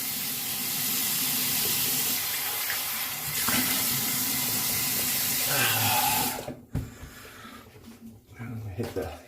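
Running tap water rinses off after a straight-razor shave, a steady broadband rush for most of the clip that cuts off abruptly near the end, leaving faint handling noises.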